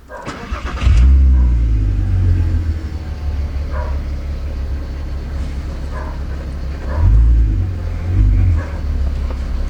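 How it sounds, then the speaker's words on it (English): An Audi TT engine cranks and catches with a sudden burst, then settles into a steady low idle, revving up briefly twice near the end. "So if we give the car a start,"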